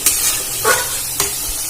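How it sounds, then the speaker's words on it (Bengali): Loud, close hiss of ginger frying in oil, with a few spatula scrapes and stirs breaking through the sizzle. "আদাটা খুব ভালো করে ভেজে নিতে হবে"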